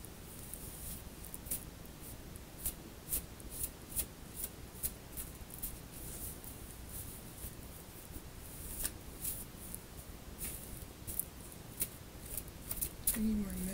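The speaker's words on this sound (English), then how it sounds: "Let me do a complete shuffle." Rapid papery riffling and snapping of playing cards being shuffled, close and steady, with soft movement noise and a brief voice near the end.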